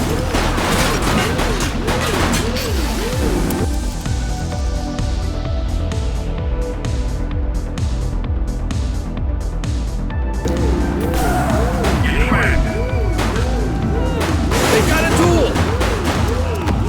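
Rapid bursts of gunfire aimed at a fleeing vehicle during a police pursuit in a video game, loud and repeated over engine roar and crashes, with voices and radio chatter mixed in.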